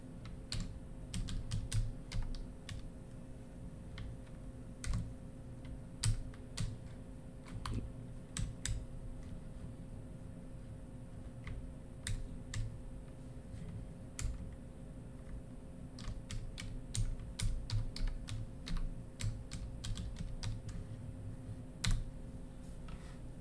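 Typing on a computer keyboard, sparse clicky keystrokes in irregular bursts over a steady low hum, fairly quiet and close, no voices.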